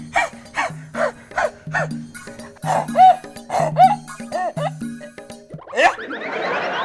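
A person imitates a dog with a run of about ten rhythmic, close, loud barks and yips, ending in a breathy panting burst.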